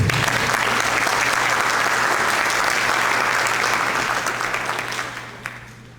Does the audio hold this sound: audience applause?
yes